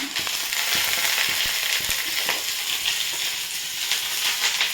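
Handful of drumstick leaves sizzling and wilting in a hot pan, a loud steady frying hiss with small crackles and stirring clicks, close up and without talk.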